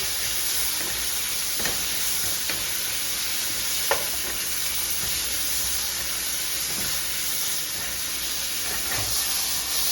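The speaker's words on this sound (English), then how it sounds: "So just put a little bit of salt and saute it like I'm doing." Vegetables are sautéed with a little salt in a hot pan for veg Hakka noodles, making a steady close sizzle and hiss broken by a few faint stirring clicks, without talk.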